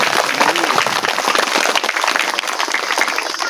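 A crowd at a village awareness festival in a tribal area claps continuously for several seconds, a dense, steady wash of applause with no voices over it.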